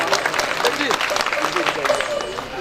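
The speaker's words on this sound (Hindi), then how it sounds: "जोरदार ताली बजाओ" A devotional katha gathering at a temple breaks into loud, sustained clapping from the audience, dense and continuous throughout with crowd noise mixed in.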